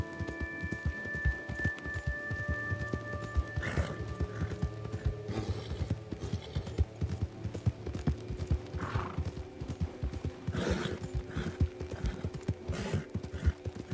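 A horse in the game Red Dead Online trots with a steady, rhythmic clip-clop of hooves, joined by a brief whinny and faint mechanical clicking under continuous ambient noise.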